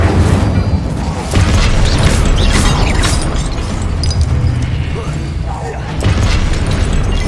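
Incendio fire spell cast in the video game Hogwarts Legacy, a loud, continuous roaring burst of flame with booming, crashing impacts running throughout, dense and sustained rather than a single hit.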